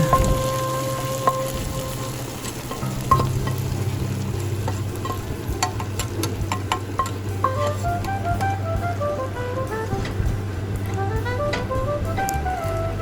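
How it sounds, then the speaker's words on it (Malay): Fried garlic and shallots stirred into a pot of chicken porridge, a steady close sizzle and bubbling with scraping and stirring clinks throughout, no talking. "Apabila dia telah garing, kita boleh masukkan ke dalam periuk bubur kita."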